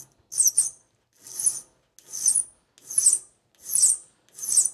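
Six evenly spaced rasping strokes of a file scraping a hard chainsaw bar, each a bright gritty hiss with brief silence between, close up and without voices.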